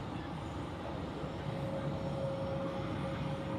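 An Air Baltic Airbus A220 takes off from runway 16 at Zurich Airport on a freezing day, heard as a steady, distant engine roar with a faint whine running under it.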